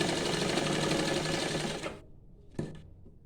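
A domestic sewing machine stitches a pocket seam into a salwar, running in a steady whirring burst for about two seconds, then stopping, followed by a brief short restart.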